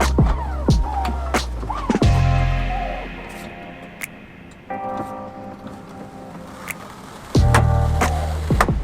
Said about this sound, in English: I can simply use these buttons on the overhead console and lower and raise the 3rd row.